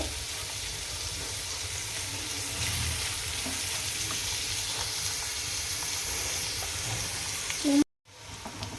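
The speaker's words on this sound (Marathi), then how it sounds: "कांदा चांगला परतून घ्यायचा गोल्डन सोनेरी कलर येईपर्यंत" Onions frying in oil until golden for dhaba-style whole masoor dal: a steady, dense sizzle throughout, close and loud, ending in a brief clatter and sudden drop.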